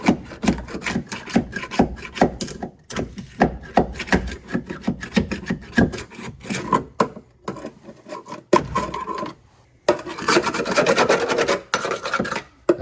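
Sound-deadening material is scraped off the floor of a stripped Nissan S13 interior: rough, rasping strokes come in irregular bursts with short pauses, close and fairly loud, with no talking.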